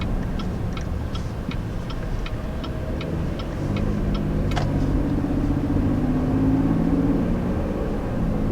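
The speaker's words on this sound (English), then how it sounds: "The engine has a very hushed note to it, as you would expect out of a luxury SUV" A 2019 Buick Enclave luxury SUV drives along, heard from inside the cabin as a low, hushed engine and road hum, with a steady ticking like a turn signal over it.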